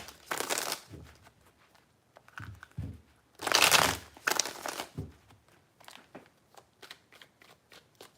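Tarot cards shuffled in several bursts, riffling and crinkling close by with quiet pauses between, the loudest burst midway.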